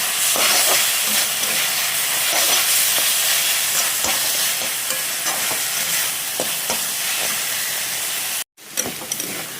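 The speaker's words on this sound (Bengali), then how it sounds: "তো ভাজা হয়ে গেছে, নামিয়ে নিই" Leafy greens sizzle and hiss steadily in a hot pan, with occasional stirring scrapes cutting through the constant frying noise, close and loud.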